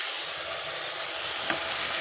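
Chopped winter vegetables go into a pan of fried spice paste for a rohu fish curry, giving a steady, loud sizzle throughout with a brief stir or shift midway and no voices.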